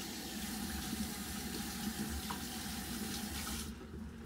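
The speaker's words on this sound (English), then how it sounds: "Let me rinse my hand." Steady rush of water from a sink tap running to rinse a hand, close and continuous, easing slightly near the end with no talk.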